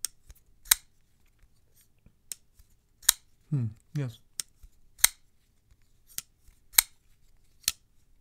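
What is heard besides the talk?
Bestech flipper knife flipping open and shut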